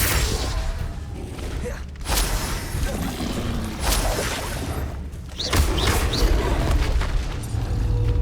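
Explosive blasts from the Confringo spell in the video game Hogwarts Legacy, with loud booms and crackling debris recurring several times over a dense, rumbling bed of game sound effects.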